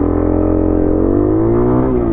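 A CT70-style Amigo 125 minibike engine revs loudly and continuously in first gear, its buzzing pitch climbing steadily close to the listener, with no talking.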